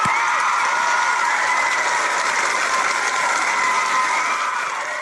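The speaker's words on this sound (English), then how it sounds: "let's all unmute and let's give them a big round of applause" Applause from unmuted participants for honorees at an online awards ceremony, a loud, continuous, compressed wash of clapping with no clear separate claps, steady throughout and easing slightly at the end.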